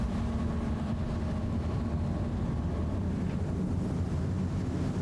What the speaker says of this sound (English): Let's see what the engines sound like.